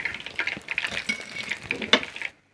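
Tilapia fish frying in a little oil, close crackling and spattering with uneven bursts, ending abruptly in silence.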